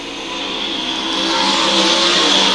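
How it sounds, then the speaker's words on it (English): World of Outlaws STP Sprint Car Series cars racing on the dirt speedway at Lakeside during a heat race, a loud, sustained engine roar that swells steadily as the cars come through the turns, with no talk. "Cody Darragh rides the cushion into turn 3, turns hard down to the bottom of the speedway out of turn 4."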